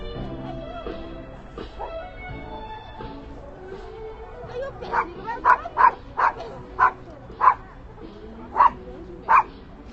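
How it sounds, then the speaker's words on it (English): Several dogs bark loudly and repeatedly nearby in Nanjing, a run of evenly spaced sharp barks in the second half following quieter whines, with soft talk and street noise in the background. "Let's go say hi to the doggies."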